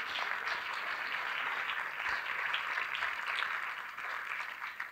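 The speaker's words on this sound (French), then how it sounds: "On peut applaudir." An audience in a screening hall applauds, a dense, even wash of many hands clapping that holds steady throughout at moderate loudness.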